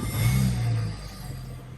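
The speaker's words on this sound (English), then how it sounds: "Let's start the car up and we'll just watch them" BMW 335i with the N54 engine, showing an air-fuel ratio problem: it starts and settles into a close, steady idle hum, loudest at the start and easing slightly, with no talking.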